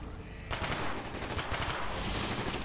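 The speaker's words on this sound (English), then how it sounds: "Gunfire's drawing attention." Automatic gunfire in Call of Duty: Black Ops, a near, loud, dense burst of rapid machine-gun shots that starts suddenly after a brief quieter lead-in and keeps up without pause.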